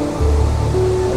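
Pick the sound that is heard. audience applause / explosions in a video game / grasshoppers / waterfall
waterfall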